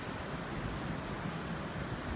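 Steady Pacific Ocean surf at Glass Beach in Fort Bragg, a continuous broadband wash with no distinct breaks, faint and distant, with a hint of wind.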